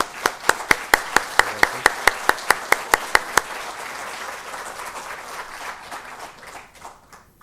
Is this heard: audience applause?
yes